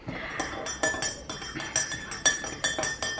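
Ice cubes clink against a glass of iced sweet tea in bright, close, repeated knocks, roughly a dozen over three seconds in a loose steady rhythm, with no talking.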